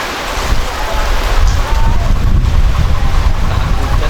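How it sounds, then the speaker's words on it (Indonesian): Heavy rain pours during an outdoor night performance of a Sandiwara Lingga Buana theatre troupe, a loud, dense roar with rumbling low-end buffeting, continuous throughout. "Hujan guys kayak gini guys."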